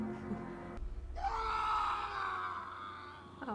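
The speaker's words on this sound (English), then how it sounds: "Oh, well, there's a scream." A loud, drawn-out scream from a scene in The Walking Dead Season 8, rising after a short low rumble and holding steady for about two seconds before it fades. No one speaks over it.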